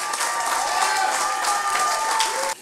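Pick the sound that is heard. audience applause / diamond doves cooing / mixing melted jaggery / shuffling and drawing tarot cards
audience applause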